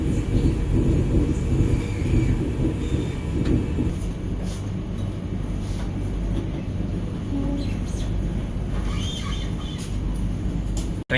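A Vande Bharat express train running from Dehradun to Anand Vihar rumbles along the track, a loud low roar heard from inside the coach, with rattles and brief higher clatters.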